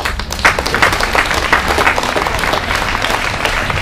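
Audience applause at a public evening event in a park: dense, steady clapping fills the space, loud and unbroken for several seconds.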